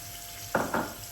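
Grated cheese being whisked into a milk sauce in a pan: two quick, close scraping strokes over a steady low hum of the hob.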